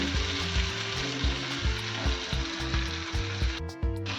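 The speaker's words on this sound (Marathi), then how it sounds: "आता भेंडी परतून घेते" Okra (bhindi) sizzles steadily in a hot pan while being sautéed, a loud continuous frying hiss broken by regular scraping stirs, with no talk.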